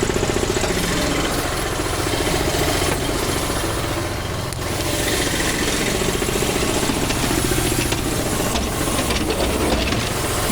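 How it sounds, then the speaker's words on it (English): Air compressor running in a tire service setting, a loud continuous pounding, hissing mechanical clatter that stays steady and close throughout with no talking. "Let me crank my compressor, get my air going"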